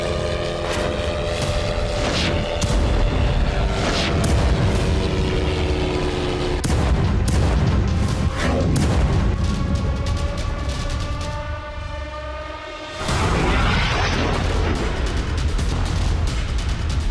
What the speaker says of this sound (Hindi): कैसे बेरूत पर बरसे इजरायली बम